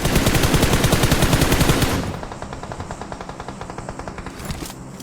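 Rapid automatic gunfire in PUBG Mobile, loud and dense bursts at first, then a quieter, steady stream of shots continuing to the end.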